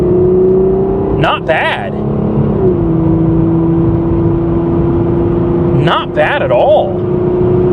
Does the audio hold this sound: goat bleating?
no